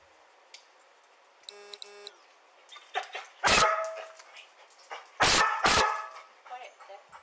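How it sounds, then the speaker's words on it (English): Several dogs from a police K9 unit bark in sharp, loud bursts, with a couple of piercing barks and scattered yips between them. "Oh God, the barking dogs."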